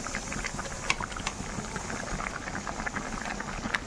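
A tamarind stew coming to a boil in a pot: soft, continuous bubbling and popping with irregular small blips, close and fairly quiet, with no voices.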